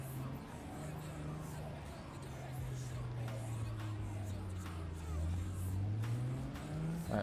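Car engine in Cyberpunk 2077, a steady droning hum that rises slowly in pitch as the vehicle drives on, with faint game ambience and occasional light clicks over it.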